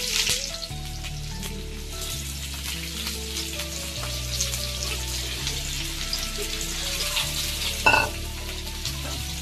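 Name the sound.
sliced onion frying in hot oil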